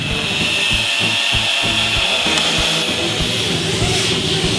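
Power tools whir and grind steadily in a surfboard-making workshop, a continuous dense mechanical noise with rhythmic rasping strokes throughout.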